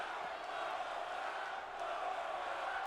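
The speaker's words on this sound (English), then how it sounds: "Crowd calling for another round from the Pearl River, Mississippi veteran." Wrestling crowd at a Hustle Magnets Federation ambulance match, a continuous distant roar of shouting and cheering fans calling for more, steady and moderately faint with no single voice standing out.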